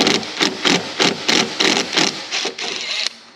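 A power driver with a chunky Phillips bit held directly in the chuck, no bit holder, turns a screw in a run of about eight short, evenly spaced buzzing bursts. The whirring pulses are close and loud, and the last one trails off.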